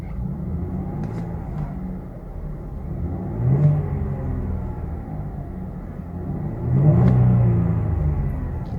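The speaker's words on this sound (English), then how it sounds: "here's what it sounds like when you rev though." A 2017 Chevy Camaro with a 275 hp V6 idles with a low rumble, then is revved twice, each rev a rising growl that swells and falls back, the second one longer and louder.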